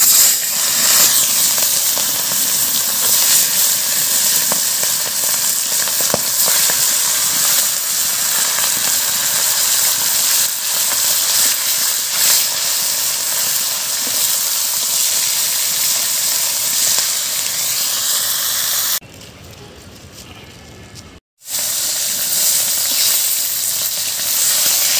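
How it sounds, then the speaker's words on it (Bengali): Pomfret fish frying in hot mustard oil in a kadai gives a loud, steady sizzle that runs almost unbroken. It dips briefly near the end, then resumes. "তেল গরম হয়ে গেছে, এরপর আমি মাছগুলো ভেজে নেব"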